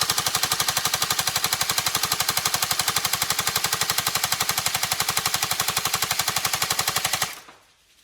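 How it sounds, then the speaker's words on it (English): Upgraded Tokyo Marui MK46 NGRS airsoft electric light machine gun firing a long, rapid, evenly paced full-auto burst up close, then abruptly stopping. "You can obviously reactivate it and charge some more and then fire some."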